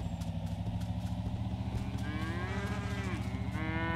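Cattle in the game Wobbly Life low in long, drawn-out moos over a steady mechanical rumble and rhythmic clatter, the calls fairly close and rising and falling in pitch.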